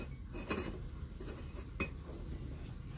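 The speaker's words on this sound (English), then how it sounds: "If you hear any clanging, it's me moving the props." Pottery props and dishes clink and clatter as they are shifted while unloading a kiln, with a few sharp ceramic knocks standing out over a quiet room background.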